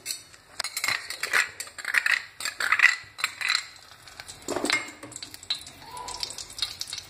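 Ghee heating in a pan on a gas stove for white barfi, giving bursts of crackly sizzling and stirring scrapes that come and go in uneven waves, fairly close and without talk.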